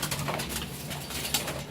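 A pigeon or dove that flew into a house gives soft cooing calls indoors, faint and intermittent against room noise, with a brief flutter near the end.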